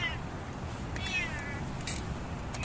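A cat meowing at a campsite being fed, several short close meows spread over steady wind noise, with no speech.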